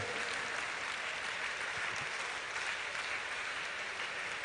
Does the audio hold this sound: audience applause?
yes